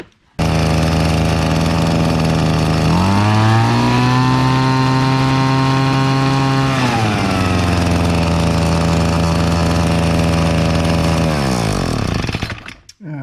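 A Craftsman Incredi-Pull 32cc leaf blower engine, leaking fuel and smoking, running loud and close: a steady idle that revs up higher for a few seconds, drops back, then climbs again before cutting off.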